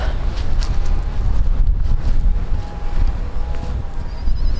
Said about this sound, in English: it has been crazy windy lately. Like the wind doesn't ever stop.